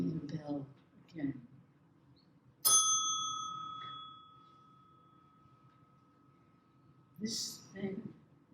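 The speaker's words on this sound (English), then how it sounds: "Ring the bell again." A bell struck once more at a poetry reading gives a bright ding that rings out and slowly fades, with someone speaking before and after it.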